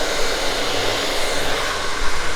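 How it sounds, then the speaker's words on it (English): A blow dryer blasts steadily while hair is styled with a nylon brush, a loud, close, unbroken airy roar with a slight flutter and no talking over it. "So we've got a blow dryer, the nylon brush, and we're going to over direct this forward."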